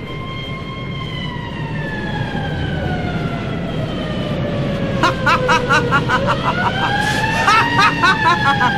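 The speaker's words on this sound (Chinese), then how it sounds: "警车而家嚟啦！" A police car siren used as a sound effect in a Cantonese audio drama wails with long rising and falling tones, then a faster warbling pattern, loud and steady over a noisy background.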